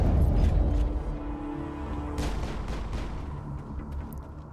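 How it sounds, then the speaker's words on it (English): Gunfire in the video game Mass Effect, a heavy booming burst at the start followed by scattered shots and rumble, with a low musical drone underneath. "Who are you shooting at?"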